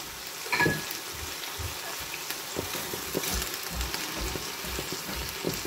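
Carrots frying in a hot pan, a steady broad sizzle running throughout with a brief clatter near the start, nearby and moderately loud with no talking.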